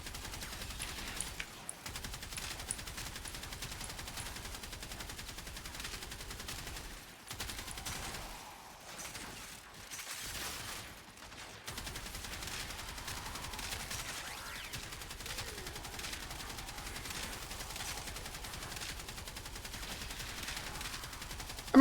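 Reconifex assault weapon firing in Warframe, sustained loud automatic bursts with short breaks near the start and mid-sequence, dense and rapid throughout.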